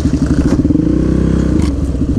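A supermoto motorcycle engine with its throttle stuck open, running fast with a loud, steady, pulsing drone close by, rising slightly and then easing off, with no voices over it.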